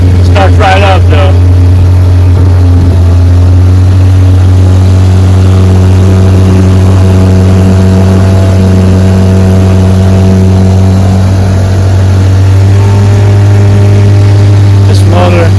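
A restored Evinrude Bayou outboard boat motor runs steadily after starting, a loud continuous low engine drone with rising and falling tones and a short rev near the end, with no talking over it.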